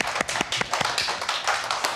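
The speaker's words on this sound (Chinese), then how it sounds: "我们一起给他掌声。" Students applaud a guest speaker in a classroom, a spread of separate sharp claps with an uneven rhythm across the whole stretch, close and fairly loud, with no voices over it.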